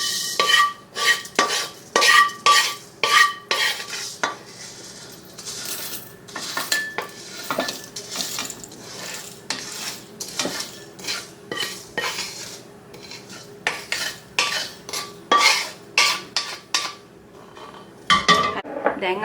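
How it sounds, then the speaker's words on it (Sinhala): Homemade garam masala spices tipped from a pan into a container, with repeated metallic clinks and scrapes of pans and utensils coming in close, irregular bursts throughout, no talking. "දැන් මම මේ ලිප ඕෆ් කරලා මේක මම මගේ පාවිච්චි කරපු භාජනයට මේක හලා ගන්නවා"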